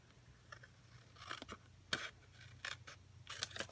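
Paper card edge being trimmed with a trimmer or scissors while making a Halloween card: faint, close cutting and scraping strokes in short bursts, with quiet handling noise between them.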